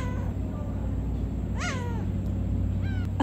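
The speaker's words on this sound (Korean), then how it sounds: "갈매기가 입 벌리면서 울어대는 거 가까이서 이렇게 보는 건 처음이거든요" Seagulls crying with open beaks at a spring cherry-blossom campsite, two short rising-falling calls close by over a steady low hum, separated by about a second.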